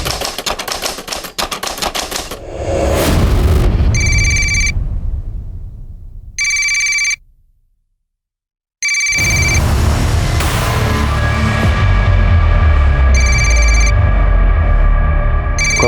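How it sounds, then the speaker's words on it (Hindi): A telephone rings in a dramatized crime scene. Loud electronic ringtone bursts repeat in bright pulses over heavy dramatic music and noise, with a brief silence in between. "कब से फोन बज रहा है"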